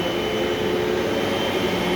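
A 2011 Eureka The Boss Smartvac vacuum cleaner runs in a steady, loud, unbroken motor drone with a whooshing airflow hiss, heard alone without any voices.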